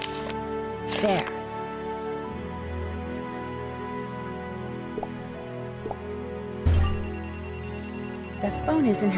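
Telephone rings in a Nancy Drew Dossier: Resorting to Danger game scene, two short bursts of ringing, near and fairly loud over a steady musical background.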